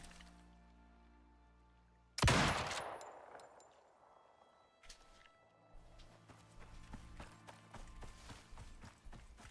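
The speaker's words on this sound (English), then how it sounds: "Hearing a lot of gunshots, Dread." Gunfire in the survival video game Icarus: a loud sudden blast followed by a decaying tail, then a run of faint, rapid distant shots that keeps clattering over a low game ambience.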